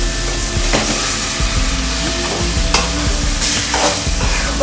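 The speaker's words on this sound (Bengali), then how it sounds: "তো এই পর্যায়ে আমি মাছগুলো দিয়ে দিচ্ছি।" Poa fish pieces drop into spice paste frying in a pan and get stirred, a loud continuous sizzle with scraping spatula strokes and occasional bursts of spattering, close and without talk.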